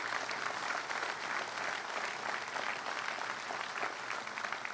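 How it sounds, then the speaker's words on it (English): Sailors applaud aboard the aircraft carrier USS Harry S. Truman, a steady, even wash of many hands clapping at moderate level for the whole stretch, with no voices over it. "Give yourselves a round of applause."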